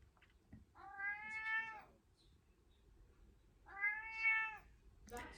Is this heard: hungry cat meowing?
yes